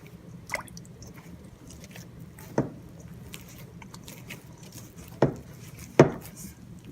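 Soft focaccia dough kneaded by hand in a bowl, a few quiet squishy slaps and sticky presses spaced apart over a low, faint room background, close by.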